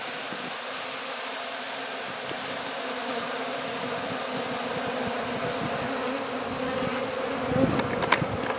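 Honeybees swarm inside and around an old metal gas tank during a relocation, a dense, continuous buzzing drone that stays loud and close, with a few louder passes near the end and no voices.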